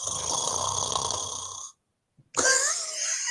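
A man imitates snoring with his voice: a long, loud, rattling snore, a short silent pause with a faint catch, then a second, rougher snore that rises in pitch.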